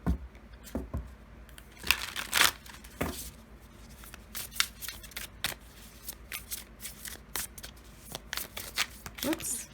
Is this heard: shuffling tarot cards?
yes